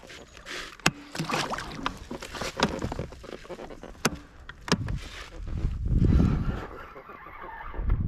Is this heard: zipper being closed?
no